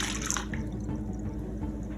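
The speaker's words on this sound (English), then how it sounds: "now we're going to take our bowl and we're going to put 2 cups of hot tap water" Hot tap water running into a mixing bowl for French bread dough, a continuous faint splashing trickle at close range with a few drip-like accents and no talking.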